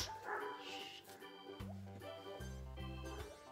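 A dog gives a few short, faint barks and yips, spaced unevenly in quick succession, with a brief higher whine near the start.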